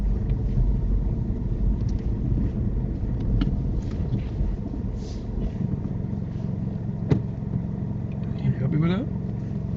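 Car engine on a UK mock driving test, a low steady rumble as the car pulls forward into a parking bay, with an instructor and driver talking over it throughout.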